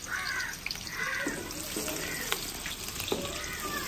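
Pakoras sizzle steadily in hot oil at an outdoor village cooking spot, a continuous hiss with occasional sharper crackles, while crows caw now and then nearby and a voice murmurs faintly in the background.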